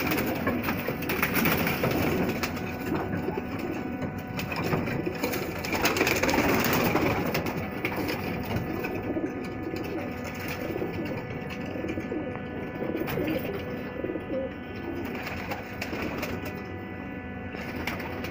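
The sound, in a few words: pigeons cooing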